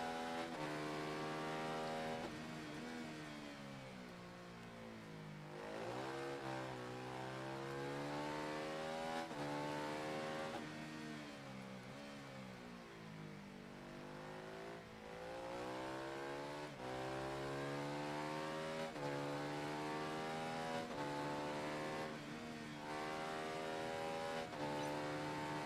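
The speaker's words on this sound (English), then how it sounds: "we've got to try and keep the revs up on this bike as well" Motorcycle engine in the racing game Ride 3, revving high and steady throughout with pitch sweeping up and down through gear changes, loud and continuous with no talking.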